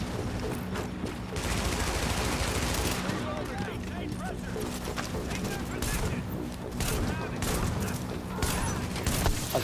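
Turret gunfire from the video game The Division rattles in dense, sustained bursts with scattered impacts, loud and continuous across the whole stretch, with a voice speaking over the shooting.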